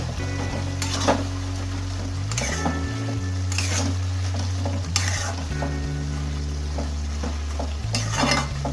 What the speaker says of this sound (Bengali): গমের আটাটা দিলে এটা বেশ খুব মাখা মাখা হয়ে যাবে। এটা আমি ভালো করে মিশিয়ে দেব।